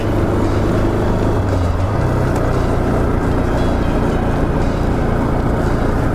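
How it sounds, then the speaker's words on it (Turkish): A Bajaj Pulsar RS 200 motorcycle engine running loud and close on the road, a continuous dense roar with a brief dip and change in tone around a gear shift, plus heavy wind rush. "Vites atacağım. Devrece basıyorum. Vites atıyorum."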